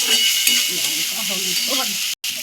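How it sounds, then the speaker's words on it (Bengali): Ginger and spices sizzle in a pan while being stirred, a continuous hissing fry with soft scraping, and a voice speaks faintly underneath. "এবার ভালো করে নাড়াচাড়া করে নিচ্ছে যে আদার গন্ধটা না ছাড়ি"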